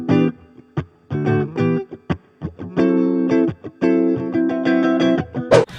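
An electric guitar through a boost overdrive pedal plays punchy, choppy chords and short notes with slight grit, ending on a brief noisy burst.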